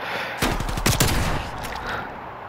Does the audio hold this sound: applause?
no